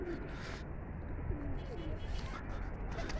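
Soft, low wild pigeon coos repeat a few times beneath a steady background rumble, fairly faint and close by.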